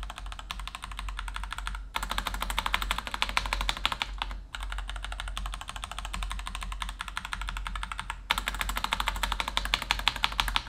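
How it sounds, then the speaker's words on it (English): Typing on an NZXT Function TKL keyboard with Gateron Red switches and a slightly rattly spacebar, a fast close clatter in several bursts broken by brief pauses. "the spacebar key is one key that has started to sound a little tiny bit rattly"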